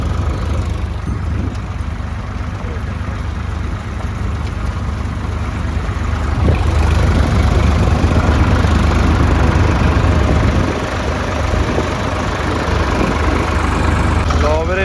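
A tractor engine runs steadily during potato sowing in a field, a loud continuous mid-to-low throb that swells briefly in the middle. Voices come through now and then over it.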